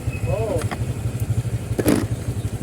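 A motorcycle engine runs on a road near a beach, its low throbbing pulse steady and close throughout while people talk over it.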